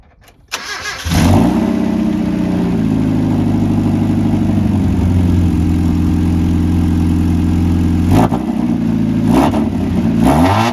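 A Mazda Miata engine cranks and catches, then runs steadily at a low, even idle for several seconds with a couple of brief blips in the rumble.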